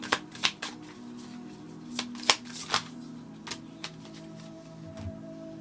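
Tarot cards are shuffled close up in a series of quick riffling snaps and soft flicks, some sharper than others, over a low steady background hum.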